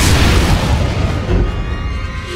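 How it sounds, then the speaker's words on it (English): Explosions rumble across the foundry level in Star Wars: The Old Republic, a loud continuous roar of deep booms and bursts lasting the whole stretch with no pauses. "Critical explosions detected on the foundry level."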